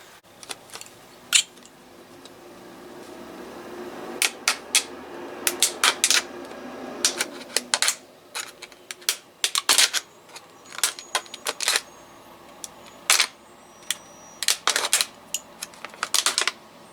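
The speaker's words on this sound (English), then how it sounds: "So let's go ahead and cut our holes." Cutting holes in a homemade bird feeder, heard as a series of sharp close snips and clicks in irregular clusters with short pauses between them, crisp and loud against a quiet background.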